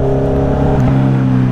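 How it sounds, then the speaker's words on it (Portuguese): A Honda CB1000 motorcycle engine running with a deep, steady, throaty roar, loud and close, holding an even pitch with a slight dip midway and no speech. "O barulhão do negócio chega a ser bonito, velho. Ronca gostoso."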